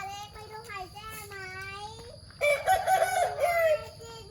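Bantam chickens in front of a house crow and cluck loudly and close by, their calls overlapping, while a voice is heard among them.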